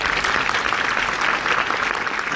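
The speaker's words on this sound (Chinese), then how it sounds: "谢大家掌声感谢他" An audience at a stage event claps in a dense, sustained burst of applause that stays loud and even throughout.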